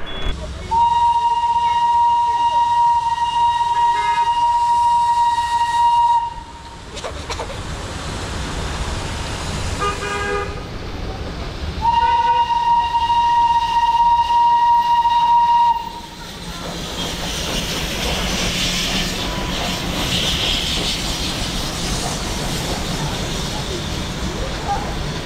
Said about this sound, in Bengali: এই পাশ দিয়ে যখন টয় ট্রেন যাচ্ছে সেটাও কিন্তু বেশ এনজয় করছি